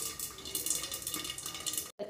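Sesame seeds crackle and pop in hot oil under a lid, with curry leaves, while Chhattisgarhi muthiya is prepared: a steady, dense sizzling hiss with scattered sharp pops, close and moderately loud, briefly cutting out near the end.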